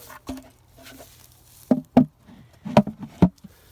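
A wooden beehive lid is set down in a yard, giving several soft knocks and taps, a pair close together then a few sharper clunks near the end, fairly close and quiet with no talking.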